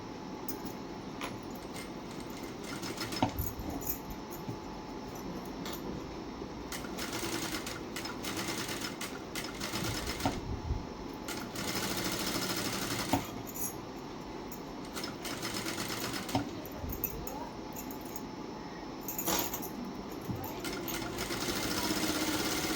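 A sewing machine stitches blouse sleeves in runs of rapid, rhythmic needle chatter, stopping and starting several times with brief pauses and light handling clicks between bursts, fairly close and moderately quiet.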